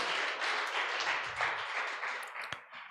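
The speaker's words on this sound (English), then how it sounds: "So you can clap for yourselves." Crowd at an evening devotional kirtan gathering applauding together, a dense steady patter of many hands clapping that fades slightly toward the end, with one sharper pop near the close.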